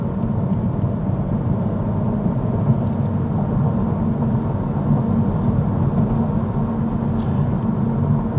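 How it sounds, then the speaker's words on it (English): Steady low road and tire rumble inside a 2026 Honda Civic Hatchback Sport cruising down the road, a constant broadband drone with faint higher hiss and no talking. "you do get a little bit of noise from the tires, just some road noise"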